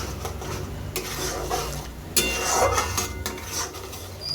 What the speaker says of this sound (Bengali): এটা আমি একটু ভালো করে নেড়ে নিচ্ছি।